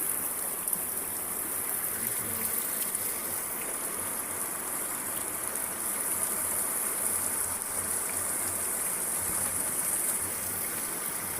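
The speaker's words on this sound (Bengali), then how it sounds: "পানি আর পানি, চারিদিকে পানি আর পানি।" Knee-deep floodwater rushes around a house in Chittagong during rain, a constant, even hiss and wash of flowing water that holds steady throughout with no voices.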